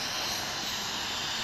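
An Apache helicopter in a video game flies at altitude, producing a brief, steady rotor and engine drone that holds even and fairly loud, with no speech.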